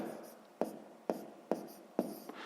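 A pen writes out a math solution by hand on paper, faint scratchy strokes broken by four sharp taps at a steady pace, quiet and close.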